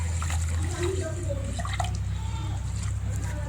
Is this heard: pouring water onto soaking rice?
yes